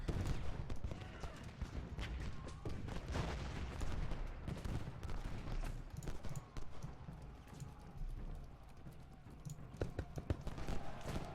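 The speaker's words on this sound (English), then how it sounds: "Firing into their sides. Cannons are firing." Cannons and rifles firing in the Civil War strategy game Ultimate General: Gettysburg, a continuous dense battle din of overlapping gunshots and booming volleys, with scattered sharper cracks throughout.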